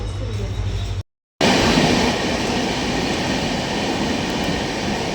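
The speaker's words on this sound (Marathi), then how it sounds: "तर आमची आता डेक्कन एक्सप्रेस आली आहे" The Deccan Express arrives at a station with a loud, broadband rumble of rail cars rolling past, briefly cut by a gap of silence, then a dense roar of wheels and carriages close by.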